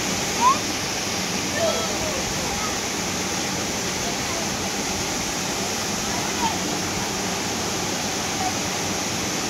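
Steady, dense rush of fast-moving water in Malshej Ghat fills the scene without pause, a constant roar like a nearby waterfall or torrent, with a few faint knocks.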